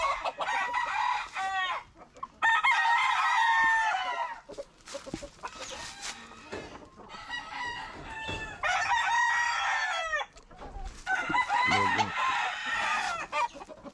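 Roosters and chickens crow and cluck repeatedly at close range in a yard, with several long loud crows rising over steady clucking.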